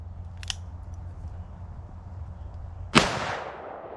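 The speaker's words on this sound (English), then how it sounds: "I'm not enjoying shooting these too much." A single sharp gunshot from a .500 JRH firearm firing a Lee bullet over 29.5 grains of H110 powder, loud and close with a fast decaying tail, preceded by a faint click.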